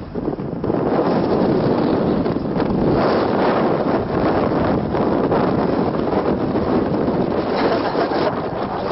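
Strong wind blasts across the microphone outdoors on Socotra island, Yemen, a loud, continuous roaring buffet that swells and dips in gusts throughout, with no talk.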